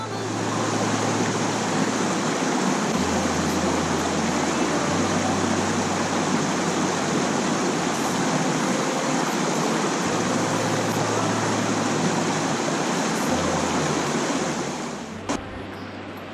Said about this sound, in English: that was a bridge slash waterfall